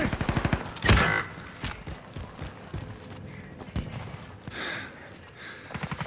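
Rapid automatic gunfire in Call of Duty: Modern Warfare, with loud bursts of shots at the start, a heavy blast, and scattered shots and impacts continuing over the following seconds.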